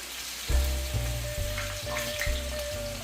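Za'atar chicken sizzling in very hot oil, a steady close crackle and hiss with a few louder spattering pops, no voices.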